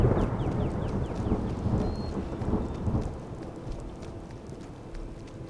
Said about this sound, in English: We're going to make our way in the rain to Whiterun.